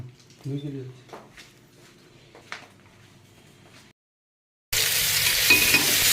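A tomato curry is cooked and stirred in a pan. Voices and quiet kitchen sounds come first, then after a brief silence a loud, steady sizzle of frying fills the rest.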